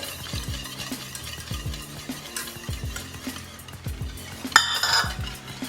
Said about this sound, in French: je saupoudre le sucre et la pectine. Je mélange en même temps.